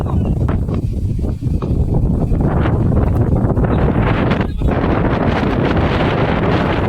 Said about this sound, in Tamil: காற்று ஹெவியாக இருந்துச்சு, பாலை முன்னாடி இழுத்துட்டு வந்துருச்சு.